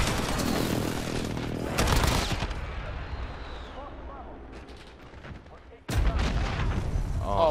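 A C4 charge detonates in Call of Duty Modern Warfare on the Shipment map, sudden loud booms cutting through constant rapid gunfire and battle noise, with a second heavy blast near the end.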